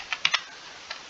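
Typing on a computer keyboard, three quick close key clicks followed by one more after a short pause, with nothing else heard.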